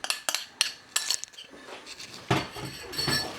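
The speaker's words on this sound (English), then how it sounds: "Give it a stir until it starts to thicken" A spoon clinks and scrapes against a pan while cornflour slurry is stirred into a sauce coming to the boil, a series of sharp metallic taps followed by softer, steady stirring.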